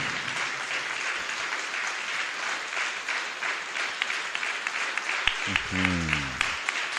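A church congregation at a Holy Spirit seminar claps continuously in sustained, dense applause, with a brief voice rising over it toward the end.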